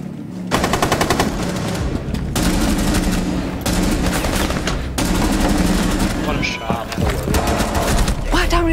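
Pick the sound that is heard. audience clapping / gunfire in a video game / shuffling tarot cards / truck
gunfire in a video game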